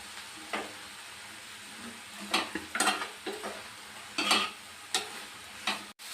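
Ivy gourd palya stirred and fried in a pan: a steady low sizzle under a handful of sharp spatula scrapes and clatters, with no talking.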